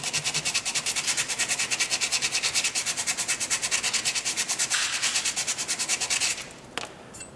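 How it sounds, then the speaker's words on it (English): Sandpaper rubbed back and forth by hand over painted metal to strip the paint, a fast, even series of close scratchy strokes that stops near the end, with no voices. "I'm going to do it the old-fashioned way with some sandpaper, and we're going to take away the paint"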